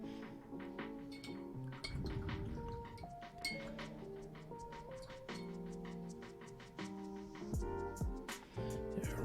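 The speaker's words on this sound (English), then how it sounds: "Rinse our brush." A paintbrush is rinsed in a jar of watercolor water, producing faint clinks and taps against the glass along with soft swishing, heard quietly beneath gentle background music.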